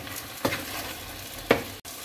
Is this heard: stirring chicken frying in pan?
yes